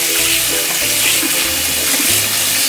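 Cold tap water runs steadily over freshly boiled potatoes in a kitchen to stop their cooking, a loud continuous splashing stream.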